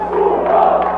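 A Brazilian football crowd boos a struggling player during Vasco vs Palmeiras in the 1993 Campeonato Brasileiro: a sustained, loud, droning roar of jeering from the stands, continuous for the whole moment.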